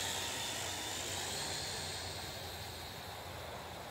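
A small RC Cray Z Wraith spy drone carrying a strapped-on action camera flies outdoors, its propellers giving a steady, loud, high-pitched whine with an airy rushing hiss that holds nearly constant throughout.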